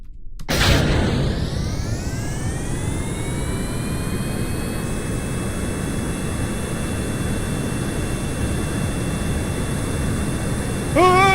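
An aircraft engine in Kerbal Space Program spools up from a sudden start into a loud, sustained jet roar with a rising whine that levels off and holds steady, close and unbroken.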